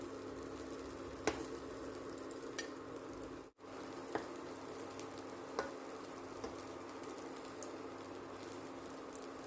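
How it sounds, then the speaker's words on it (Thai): Potato pancakes with cheese and banana frying in a pan at home, a steady, close crackling sizzle with a few sharp pops scattered through it and no talking. "ใส่แพนเค้กมันฝรั่งลงไปทอดเลยนะคะ"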